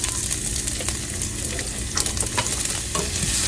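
Onion fries and sizzles steadily in hot oil in a home kitchen while a spoon stirs it, scraping and clattering against the pan in irregular strokes over the constant crackle.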